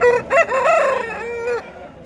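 A rooster crows once nearby at a weekly market in Pebbair, a loud, drawn-out cock-a-doodle-doo lasting over a second, then fading into quiet.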